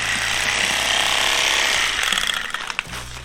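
A bag-closing sewing machine stitches shut a bag of worm compost soil on a farm, a loud rapid mechanical chatter for about two seconds before winding down into a few clanks.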